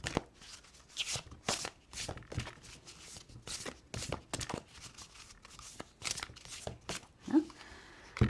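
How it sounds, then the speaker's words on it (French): Oracle cards of a legendary-creatures deck are spread across a table in a run of quick, close, crisp card slides and shuffles, soft papery flicks repeating irregularly with no talk. "on va étaler les cartes"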